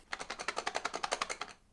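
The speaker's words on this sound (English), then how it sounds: "I think it's pencils, judging by that noise." Pencils rattle inside a shaken ScrawlrBox art-supply box, making about fifteen quick, even clicks in a steady rhythm over under two seconds, close and fairly quiet, with no talking.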